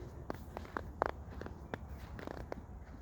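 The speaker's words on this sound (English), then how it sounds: "to walk on the snow, it's really soft, right? And it makes kind of a crunching sound." Footsteps crunching on soft, thin snow in a residential neighborhood, a series of short irregular crunches at a slow walking pace, fairly close and moderately quiet.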